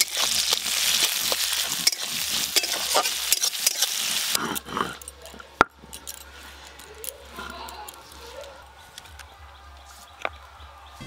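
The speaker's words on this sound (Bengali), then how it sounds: "পেঁয়াজ কুচি, পেঁয়াজটা প্রথমে একটু ভেজে নিতে হবে।" Chopped onion frying in a pan for a home-cooked meal, a loud dense sizzle for the first few seconds that then drops to a softer crackle with scattered clinks and faint background noise.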